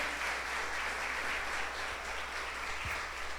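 Church congregation applauding, a dense, even wash of clapping sustained at moderate level throughout.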